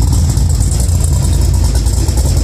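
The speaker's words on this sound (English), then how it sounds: "you're gonna hear a car that's ready to perform." A 2011 Z TA with a 6.2 liter engine, a performance camshaft and 22-inch wheels idles with a loud, close, lumpy low rumble and a steady rhythmic throb, with no voices.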